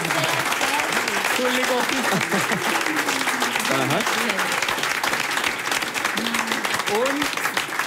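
Audience applause at a live cellar show, dense continuous clapping from a crowd while people talk over it throughout.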